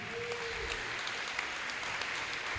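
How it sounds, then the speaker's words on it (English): Audience applause at a school promotion ceremony held in a field house, a steady, fairly faint wash of clapping that holds evenly throughout, with no talk over it. "Give them a round of applause."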